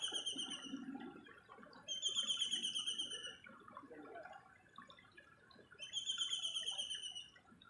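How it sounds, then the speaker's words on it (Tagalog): At a riverside campsite by Balanac Dam in Magdalena, Laguna, a bird gives repeated bursts of high trilling chirps, each lasting about a second or more, over a steady rush of flowing water. "Ano kaya ibon yun?"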